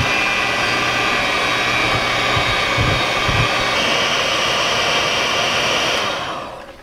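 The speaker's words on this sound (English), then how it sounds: "we're gonna get our mixer back in here, and you're just gonna blend everything together slowly" An electric mixer blends a cold crab dip with lemon juice in a kitchen, giving a loud, steady whirring drone that runs for several seconds alone before cutting off.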